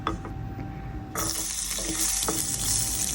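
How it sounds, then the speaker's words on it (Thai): A loud, steady sizzle of garlic frying in hot oil begins abruptly and continues, with a few clinks of stirring over it. "หลังจากนั้นเราใส่กระเทียมลงไปนะครับ ผัดกระเทียมนะครับ"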